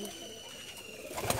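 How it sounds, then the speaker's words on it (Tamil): A silver pigeon coos softly at a man-made pigeon shelter, a faint, low, brief call heard against quiet background hum. "ஆஹா, வெள்ளி புறா"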